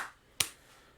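A single sharp hand clap, made to sync a recording, snaps once, close and crisp, in an otherwise quiet room.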